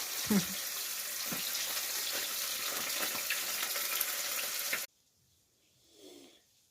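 Sheri fish frying in a pan, a loud continuous sizzle that cuts off abruptly, followed by quiet with a faint voice.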